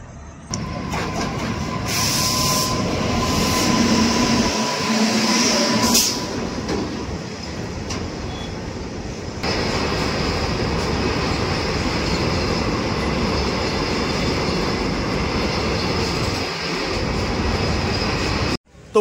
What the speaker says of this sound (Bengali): আর ওই ওপর থেকে দেখো একটা এক্সপ্রেস ট্রেন পাস হচ্ছে